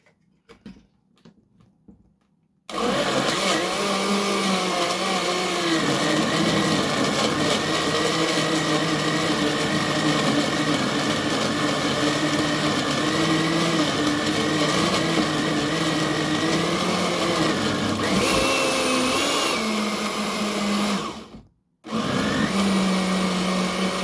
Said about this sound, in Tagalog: At tayo ay mag-blender.